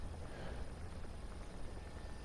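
Helicopter rotor and engine noise from the War Thunder video game, a steady dense drone with low thumping that holds at an even loudness throughout, with no voices.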